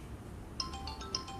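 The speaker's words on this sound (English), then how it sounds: "Even the phone ringing, ignore." A phone ringtone chimes faintly in a quiet room, a short melodic run of bright tones with two sharper accents, heard alone.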